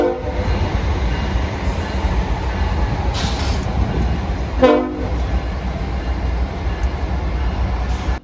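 A train rumbles past at night, a steady low roar of rolling cars close by, with a short horn-like tone and a brief squeal breaking in midway.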